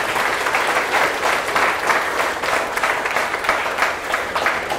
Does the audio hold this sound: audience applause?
yes